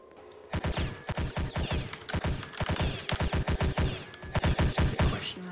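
Rapid bursts of video-game gunfire from a military shooter, sharp repeated shots clustered in quick volleys with brief gaps between them, loud and close with no talk.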